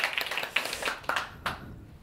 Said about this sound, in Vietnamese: nên cho chị một tràng vỗ tay